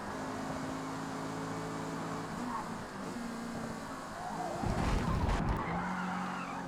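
Car tires skid under braking in a racing video game: a steady engine drone gives way to a loud, rough burst of skidding near the end, with faint talk in the background.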